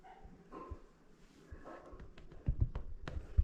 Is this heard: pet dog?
yes